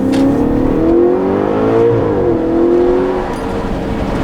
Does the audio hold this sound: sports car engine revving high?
yes